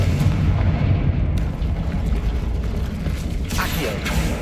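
Confringo fire spell blasts in Hogwarts Legacy, a loud rumbling burst of booming, crackling impacts sustained over a few seconds, with a sharper flare near the end and no talk over it.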